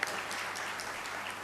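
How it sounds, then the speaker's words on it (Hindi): Applause from an audience at a religious Bhagwat Katha gathering, brief and fairly quiet, a steady patter of clapping over about a second and a half. "जोरदार तालियों से स्वागत कीजिएगा।"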